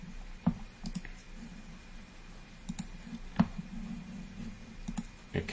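Several sharp computer mouse clicks, spaced irregularly and fairly quiet, from right-clicking through context menus in a browser testing tool, with faint room noise between them and no talking.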